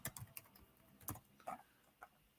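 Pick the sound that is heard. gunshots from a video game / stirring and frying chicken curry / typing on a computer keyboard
typing on a computer keyboard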